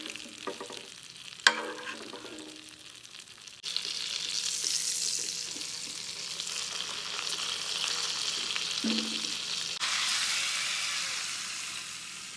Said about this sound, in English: all we're gonna do with this is keep spooning the butter on it